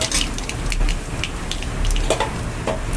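Dried red chilies and nigella seeds crackle and sizzle in hot oil in a pan, a busy spray of close spits and pops over a low frying hiss.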